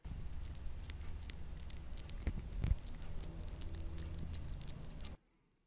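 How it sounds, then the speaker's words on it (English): Broken wires crackling inside a flexed main rotor bonding cable on an Airbus EC135 helicopter, a close, dense patter of tiny crinkles and ticks lasting about five seconds, then stopping abruptly. "If you grab onto it, and you move it around, and you can hear a crinkling sound like this"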